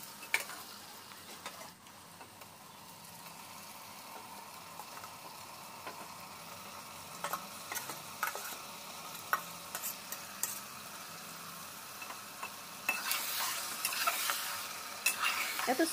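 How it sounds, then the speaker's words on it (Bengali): Mutton frying with fried onions in a pan for a village-style curry, stirred throughout, a steady sizzle broken by scraping strokes that get louder and busier toward the end. "এবার আমি মটনটাকে অ্যাড করে দেব।"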